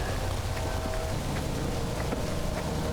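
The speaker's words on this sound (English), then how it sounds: "There's rain." Steady rain falls outdoors near a lake, a constant dense patter and hiss with faint scattered drops and no voices.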